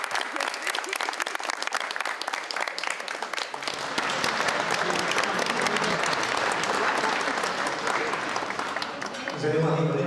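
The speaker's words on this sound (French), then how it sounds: "On peut encore les applaudir." Wedding guests inside a French church break into sustained applause, a dense, fairly loud patter of many hands that grows fuller partway through while voices murmur underneath.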